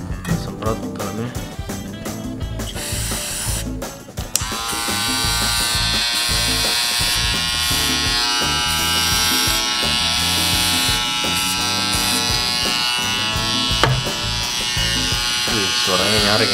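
A Wahl Senior electric hair clipper switches on and runs with a loud, steady buzz that holds for over ten seconds, after a few seconds of clicking and handling at the start.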